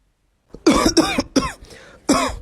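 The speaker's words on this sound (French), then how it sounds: "arrête de tousser de partout" A burst of repeated harsh coughs, four or five in quick succession, close and loud, with a brief pause before a final cough.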